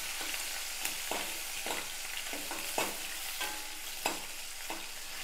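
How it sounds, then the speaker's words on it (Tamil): Chopped shallots sauté in oil for a toor dal Bombay chutney, a spoon scraping and stirring the pan in regular strokes over a continuous close sizzle. "இதை நான் போட்டுறேன். வெங்காயம் பாதி அளவு வதங்கினா போதும்."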